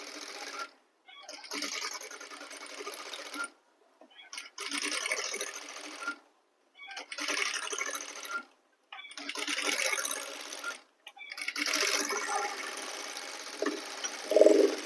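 A sewing machine stitches around the neckline of a suit in several bursts of rapid whirring, separated by short pauses, close and steady.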